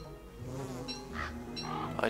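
A bee buzzes in the video game Don't Starve, a thin, wavering insect drone that rises and falls over a steady low game music bed, with no talking.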